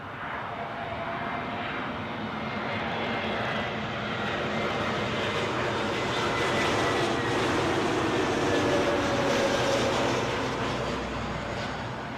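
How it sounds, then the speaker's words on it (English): Lufthansa Airbus A320neo jet climbing away after departure from London Heathrow, a steady broadband engine roar that holds level and swells slightly toward the middle, moderately distant and alone without voices. "Lufthansa A320 Neo from Munich. Just poking out from behind the trees"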